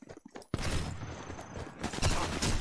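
Gunfire in the Sniper Elite 4 video game erupts as a sudden loud shot followed by a dense burst of rapid cracks and rumbling echoes, close and sustained after a brief quiet lead-in.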